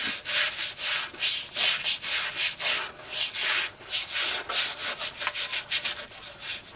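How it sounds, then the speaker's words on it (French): A dirty garden tool being scrubbed by hand with a small brush and hot water, producing quick, rhythmic bristle scratches in close, loud bursts throughout. "donc elle est sale, on prend déjà une bonne petite brosse comme ça"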